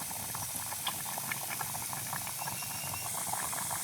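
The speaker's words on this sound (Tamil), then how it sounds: "நல்லா கொதிக்குது" Fish curry with ground masala boils steadily in a pot, a dense, continuous bubbling and popping at close range with soft hiss, no voices.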